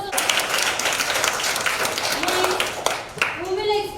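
Classroom clapping at a model English high school, a group of children's hands clapping quickly and unevenly, with young voices chattering and calling out over it.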